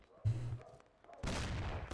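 Gunfire in the Mafia video game: a short burst of shots, then a longer, dense volley of shooting that fills the end, fairly loud with no talk over it.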